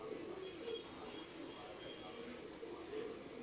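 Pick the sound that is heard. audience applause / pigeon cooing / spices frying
pigeon cooing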